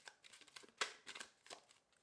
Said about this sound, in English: More shuffle.